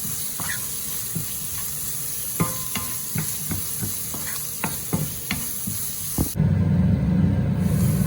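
Vegetables for a vegetable rice dish stirred in a frying pan: a steady sizzle broken by scattered scrapes and clanks of the spoon, close up, ending in a louder rush as the pan is covered.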